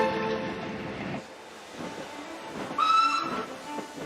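The Flying Scotsman train rumbles and clatters along the rails, and a clear, high whistle sounds briefly near the end.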